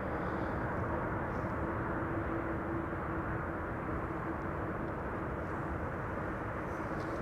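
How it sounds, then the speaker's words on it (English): A Boeing C-17 military transport taxis along a runway at Amsterdam Schiphol Airport, heard as a steady, broad jet-engine roar with a faint tonal whine that holds at an even, fairly distant level throughout. "we just saw a C-17 traverse the runway on its way out to runway center to take off"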